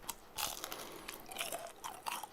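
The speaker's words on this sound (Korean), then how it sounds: "바삭바삭한 게 소리 들려드릴게요" Close, crisp crunching of a fried cheese stick being bitten and chewed, a steady run of crackly bites with no talking.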